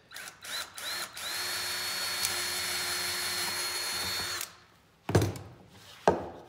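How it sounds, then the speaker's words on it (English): An electric drill bores into a wooden scroll-saw whale puzzle held in a vise, whining steadily and loud for about four seconds, with short bursts and knocks of the bit starting and stopping around it. "you can drill down into one of these holes and leave it hang over the edge and drill"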